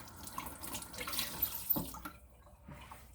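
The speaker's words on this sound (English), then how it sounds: "how do I rinse my hands? This is so oily" Tap water runs into a sink while oily hands are rinsed, a steady splashing stream that breaks off near the end, fairly close and with no talk over it.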